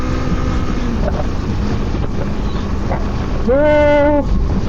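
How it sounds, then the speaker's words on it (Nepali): Strong wind buffets a helmet-mounted Insta360 X5 camera on a motorbike near Hakata Port Tower by the sea, a dense continuous roar throughout, with a brief wavering tonal sound near the end. "हावा त बबालै आयो त"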